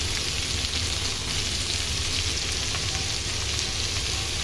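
Jackfruit seeds, potato and bitter gourd frying in a pan, a steady dense sizzle that runs unbroken and fairly loud throughout with no voices.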